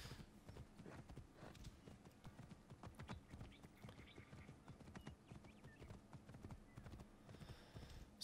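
Rhythmic clip-clop of horse hooves as a horse is ridden in the Assassin's Creed video game, steady trotting footfalls with an occasional faint whinny and no talk over it.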